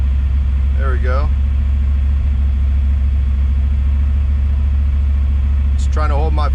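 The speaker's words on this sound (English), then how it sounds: "Let's try to go to 1500. Pushing throttle, pushing throttle, pushing throttle." An EFI engine runs as the throttle is pushed toward 1500 rpm, a loud, steady, close low drone that holds throughout, with a voice briefly heard over it near the start and end.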